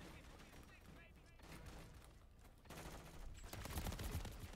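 Rapid shotgun blasts ring out in a Modern Warfare 3 match, a dense muffled barrage that builds louder toward the end, with a player's voice heard over it.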